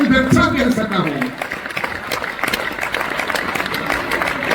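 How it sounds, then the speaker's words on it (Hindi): Audience applause from a crowd at a lyricist's stage event in Sonipat, a dense, loud patter of clapping that follows a voice and fills the rest of the clip. "थोड़ी तालियों का घनत्व बढ़ा दीजिए"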